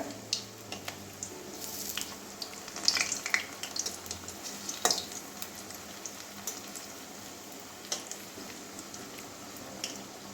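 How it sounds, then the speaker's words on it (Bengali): Tomato chops shallow-frying in a pan over low heat, a soft continuous sizzle with a few clinks and scrapes midway as pieces are turned over, no talking. "এবার উল্টে দিচ্ছি একদিকটা ভাজা হয়ে গেছে"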